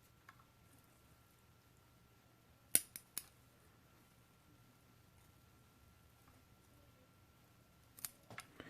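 Pruning shears snipping a branch of a lemon cypress, a few sharp close clicks in quick succession, then a pause before another short burst of snips, with quiet outdoor background.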